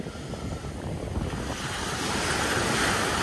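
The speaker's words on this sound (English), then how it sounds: "How nice the waves are today." Ocean waves wash steadily onto a beach, a broad continuous rushing roar that swells slightly louder toward the end, with wind buffeting the microphone and no voices.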